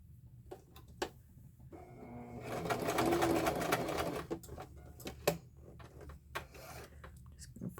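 A sewing machine stitches fabric in a steady whirring burst of about two seconds, flanked by isolated clicks and knocks of handling the machine and cloth close by.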